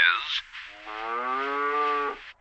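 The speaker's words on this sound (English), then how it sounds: "A cow says" A single long, loud cartoon cow moo from an animated TV comedy, close up, rising then holding steady before fading, with no other sounds around it.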